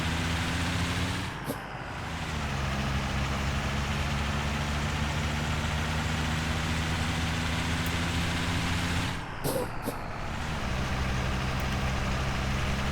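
In Euro Truck Simulator 2, a truck engine pulling an 8-ton trailer drones loud and steady, with two short gear-change dips where the revs fall and climb again.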